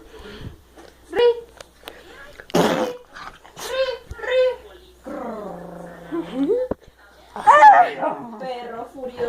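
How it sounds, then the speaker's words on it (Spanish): A dog attacking a mother barks and growls furiously in close, repeated bursts, with yelps and whimpers mixed in while people talk and shout nearby. "Perro furioso."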